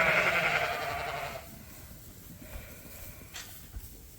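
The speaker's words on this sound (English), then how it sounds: "here's a bruiser ewe lamb" A ewe lamb gives one loud, close bleat at the start, then a quiet stretch follows with a few faint clicks and shuffles.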